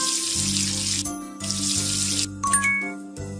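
Synthesized water running from a tap in a makeup salon video game, flowing in two bursts followed by bright chiming jingles and electronic tones, loud and close, with no voices.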